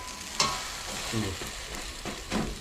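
An egg fries in a pan on a gas stove with a close, continuous sizzle, broken by a few light scrapes and taps of a utensil.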